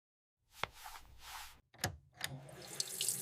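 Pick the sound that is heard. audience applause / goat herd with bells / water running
water running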